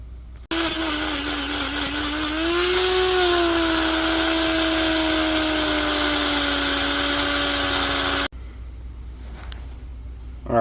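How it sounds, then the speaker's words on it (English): A Dremel rotary tool with a cut-off disc grinding through a wheel bearing race on a Polaris Sportsman ATV, a loud sustained high-pitched whine that dips slightly in pitch under load for about eight seconds, then stops abruptly. "time to cut it off the Dremel. So we're going to take the cut-off disc and basically kind of cut it at an angle there"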